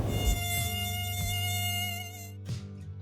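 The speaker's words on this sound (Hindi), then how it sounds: "उधर कनक के गाल पर जोर से मच्छर ने काटा" A mosquito whines close by in a steady, high buzzing drone for about two and a half seconds, then cuts off with a brief burst near the end.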